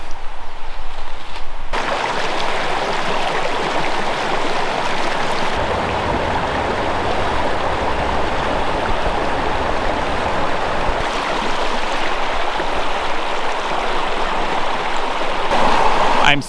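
A brook flowing around boulders, a steady close rushing and gurgling of water that fills the whole scene with no letup.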